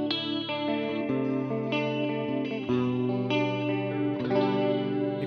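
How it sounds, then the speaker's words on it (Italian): An EKO VL-480 Les Paul-style electric guitar played through a chorus effect rings out in sustained, shimmering chords that change every second or so, loud and continuous with no talking. "Mi piace molto questa tipologia di suono e anche ovviamente su un discorso col chorus magari."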